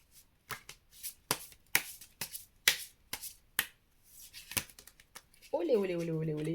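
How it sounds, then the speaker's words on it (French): Merlin oracle cards are shuffled and drawn close by, with a rapid run of crisp riffling snaps and flicks. A person starts singing at the end. "Je vais vous prendre une petite carte de l'oracle de Merlin."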